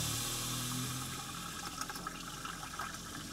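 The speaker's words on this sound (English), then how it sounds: "There's not as much water coming out of the tap as usual." A van's tap runs with low pressure in a steady, soft stream of water that thins slightly over a few seconds, heard close up with no talking.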